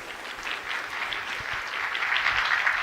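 An audience at a state-level employment day event in Bhopal claps to welcome a woman who sells toys, a dense, steady wash of applause that swells slightly toward the end, with no speech over it.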